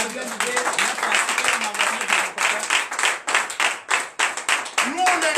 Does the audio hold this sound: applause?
yes